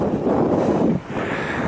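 Strong wind gusts buffet the microphone on a mountain crest in the Vosges of Alsace, a dense continuous roar with a brief dip in the middle, no voices.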